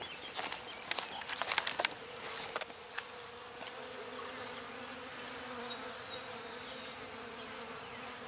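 Honey bees buzz around hives in a bee yard, a faint, steady hum with a soft drone throughout, plus a few close taps and rustles early on.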